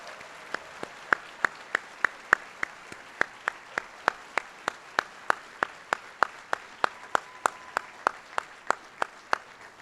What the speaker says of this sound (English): I want to give one final recognition and round of applause for the DPT class of 2025 here at the University of Kentucky.